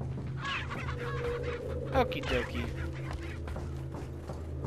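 In the video game Resident Evil 4, a chicken clucks in a steady run of short calls over low ambient game hum, and someone speaks briefly under it.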